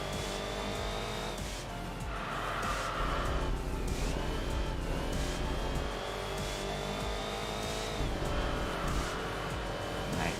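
A supercharged V8 race car in the video game Enthusia Professional Racing, its engine a continuous loud drone that dips and climbs through gear changes, with brief tire squeal mixed in.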